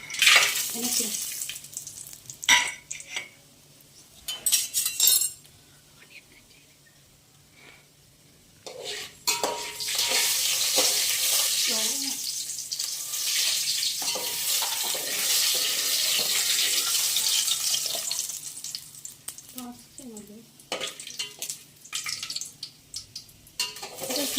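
Ingredients frying in a pan on a stove, with a steady broadband sizzle holding for much of the clip, broken by clinks of utensils and cookware and brief running water; a voice speaks now and then.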